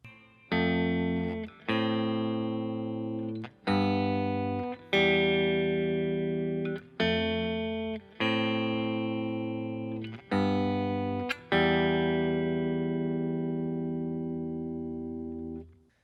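A guitar plays a slow chord progression, each chord ringing out in turn with short breaks between, the last chord left to sustain and fade.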